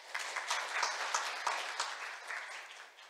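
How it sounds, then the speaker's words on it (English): An audience at a science and technology forum in Seoul gives a round of applause, a dense burst of clapping with scattered sharper claps, moderately loud and fading slightly toward the end. "please welcome our last presenter with a big round of applause"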